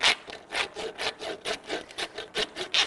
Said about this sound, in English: Take a saw and begin to score through